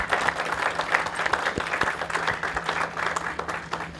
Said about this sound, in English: let's just give a big round of applause for Director Alice Williams